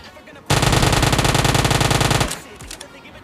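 Automatic gunfire in PUBG Mobile: one sustained burst of rapid, evenly spaced shots lasting nearly two seconds, loud and close, then a few fainter scattered sounds.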